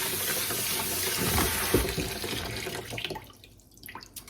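Tap water runs into a kitchen sink while grains are rinsed for a grain bowl, a steady splashing stream that rises briefly, then thins into scattered drips and trickles as it fades.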